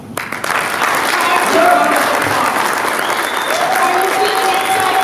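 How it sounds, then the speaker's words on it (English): Loud, sustained audience applause fills a conference room, with a few faint whistles and voices mixed into the crowd noise. "just give us a round of applause"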